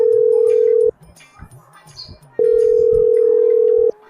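A telephone's steady dial tone sounds loudly in two long stretches, separated by a gap with faint background chirps and small noises.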